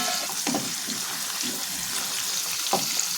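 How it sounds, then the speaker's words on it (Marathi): Fresh peas frying in oil for a samosa filling, giving a steady close sizzle with a few soft stirring scrapes; no talk. "वाटाणे आपण हे पाच मिनिटासाठी छान तेलामध्ये शिजून घ्यायचं"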